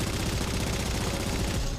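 Sustained 50 cal heavy machine gun fire in the video game Halo 4, a dense, continuous rattling burst of rapid shots, loud and close, running unbroken from start to finish with no voices.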